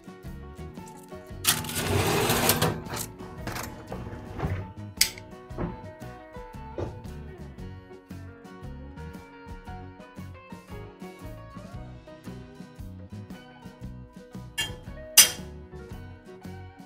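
Clinks and clatter of roasted vegetables being scraped from an oven tray and dropped into a pot, with a burst of rattling early on and scattered knocks after.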